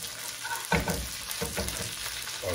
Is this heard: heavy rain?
no